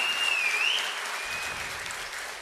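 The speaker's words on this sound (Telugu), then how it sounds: "గట్టిగా చప్పట్లు కూడా అందరూ అభినందించాల్సిందిగా కోరుతున్నాం." An audience claps in sustained applause, a dense steady patter that slowly eases off, with a faint high whistle-like tone early on.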